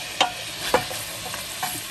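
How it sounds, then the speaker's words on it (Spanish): Chicken pieces searing in a hot pan for a Peruvian cau cau, a steady close sizzle broken by a few sharp clacks of a utensil turning and stirring the meat. "Vamos a sellar las presas."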